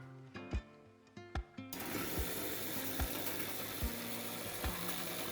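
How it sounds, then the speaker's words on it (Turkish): A tiny electric motor under heavy load whines steadily while sharp periodic clicks and grinding snaps repeat, its small gear teeth stripping, roughly every three-quarters of a second. "Arada duyulan ses üzerindeki ufak dişlerin sıyırma sesi."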